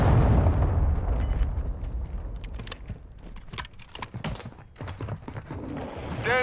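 A cruise missile strike in a military video game: a heavy low boom at the start fading into scattered debris, crackles and distant pops, with game effects around it.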